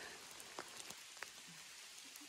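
Steady rain falls on a muddy, root-covered mountain trail on the Sta. Cruz route up Mt. Apo, a soft continuous hiss with scattered faint droplet ticks and no voices.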